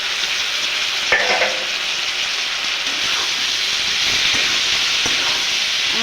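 Chopped capsicum and tomato hitting a hot pan with paneer for chilli paneer, a loud, steady sizzle and hiss that holds throughout, with a faint utensil knock near the start and no talking.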